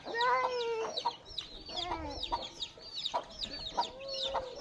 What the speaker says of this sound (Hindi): ये तो माशाल्लाह बड़ी बड़ी मुर्गी लग रही।